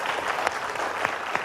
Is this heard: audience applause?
yes